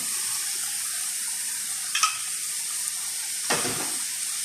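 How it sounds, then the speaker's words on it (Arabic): Rice with shrimp and roe being stirred in a hot pan after a splash of lemon juice, a steady close sizzle broken by two brief scraping stirs. "ونقلب هذه المكونات مرة كويس لين ما يطلع معايا الأشياء اللي موجودة تحت"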